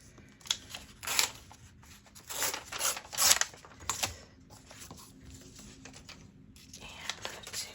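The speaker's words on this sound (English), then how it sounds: "I'm going to tear it right about here." Paper tears in several short, crisp rips spaced over a few seconds, close and fairly quiet, with pauses in between.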